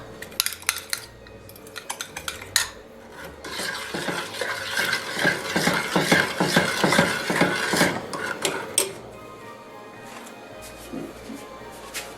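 Homemade pecan frosting for German chocolate cake being stirred in a pot over medium heat, with a close, busy run of spoon scrapes and clinks against the metal and a few sparse knocks before and after.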